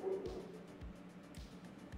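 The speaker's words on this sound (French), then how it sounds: "on entend bien que c'est des aboiements de chiens" A sound file of dogs barking plays back quietly, with several faint, short, separate barks and yips spread out over a low background hum.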